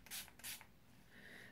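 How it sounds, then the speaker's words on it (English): A Makeup Revolution Pro Fix fixing spray is pumped in two quick, close misty bursts, followed by a soft faint hiss. "I'm just going to spray my Makeup Revolution Pro Fix Amazing Makeup Fixing Spray."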